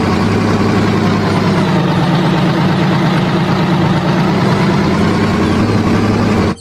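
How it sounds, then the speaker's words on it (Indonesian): A cement mixer truck engine idles with a continuous, loud, low rumble and steady throb that holds evenly before cutting off abruptly at the very end. "Mobil pengaduk semen."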